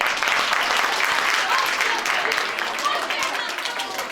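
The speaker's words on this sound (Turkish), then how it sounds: "Arkadaşımıza alkışlayalım." Young people in an audience applaud a peer, a full, steady round of clapping from many hands that holds at strong level and tapers slightly toward the end.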